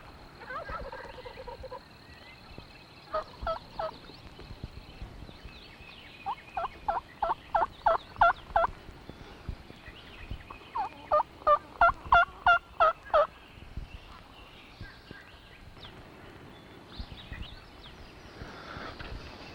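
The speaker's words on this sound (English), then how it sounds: "you heard 2 turkeys there" Two distant wild turkeys gobble in repeated rattling bursts, several rapid volleys rising and falling, over a quiet outdoor background with faint birdsong.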